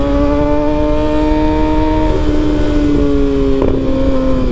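A Kawasaki ZX-6R 636 sport motorcycle engine drones loudly and steadily nearby, its tone sagging slightly in pitch over a few seconds, with no speech.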